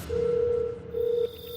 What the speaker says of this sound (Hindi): वो और कुछ सोच ना पाया और फिर से दोस्त को फोन किया